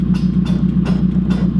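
A car tire rubs against a Karma body kit, making a rhythmic whooshing scrape that repeats roughly every 0.4 seconds over a steady low rolling drone.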